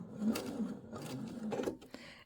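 A sewing machine makes one or two short stitches while a faux welt pocket is sewn, giving brief quick mechanical bursts with small pauses between them. The machine is close and fairly quiet.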